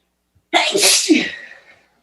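A single loud, close sneeze bursts out after a brief silence and fades over about a second, with nothing else around it.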